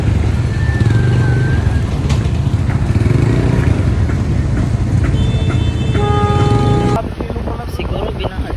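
Road traffic of motorcycles and cars on a congested street in San Isidro near a flooded riverside, a steady loud engine drone with horn toots late on, under continuous chatter of nearby voices.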